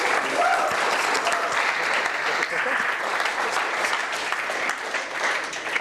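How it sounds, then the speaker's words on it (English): Audience applause at a startup pitch night in Melbourne, sustained and dense with many hands clapping at once, steady throughout with no one speaking over it. "Round of applause, ladies and gentlemen."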